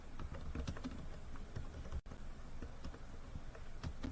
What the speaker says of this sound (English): Or I may simply want to type the topic here.